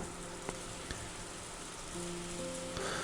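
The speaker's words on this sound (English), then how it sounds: "the quiet rain just kept on falling" Quiet, steady rain falls in the Umineko visual novel, a soft continuous patter with a few faint drips, low in level and with no voices over it.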